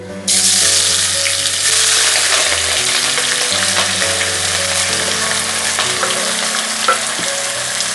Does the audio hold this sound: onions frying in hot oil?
yes